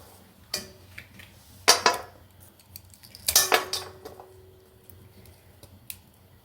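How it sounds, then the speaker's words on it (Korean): Pieces of bimok tree wood are snipped smaller with a few sharp, isolated metallic clicks and clinks, close by and spaced apart against a quiet background. "좀 더 작게 싹 자를게요."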